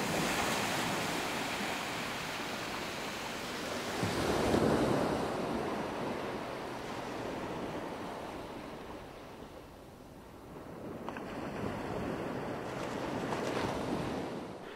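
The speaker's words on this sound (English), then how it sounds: "The moon-induced tide sends billions of gallons of water surging through these amazing landscapes." Tidal seawater surges around a small duck punt on the coast between Wells and Blakeney, a broad rushing wash swelling and easing with gusts of wind buffeting the microphone, no voices.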